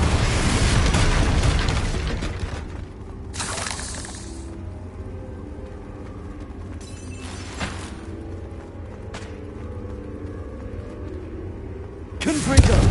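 Blasts from the Confringo fire spell in the video game Hogwarts Legacy burst out as several sharp explosive bangs with rumbling tails, one loud at the start and others spaced through the clip, with spoken incantations between them.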